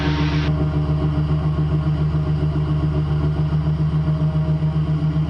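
The Raptor prototype engine runs at a held speed of about 3,000 RPM, a loud, close, steady droning hum with an even pulsing rhythm and no voices.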